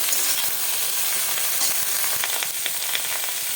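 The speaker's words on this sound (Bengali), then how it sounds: "ধুয়ে রাখা সবজিগুলো ভালো করে নাড়াচাড়া করবো" Washed vegetables frying in a hot pan while being stirred, a steady bright sizzle with scraping and clinking of the spoon against the pan scattered through it, close and continuous.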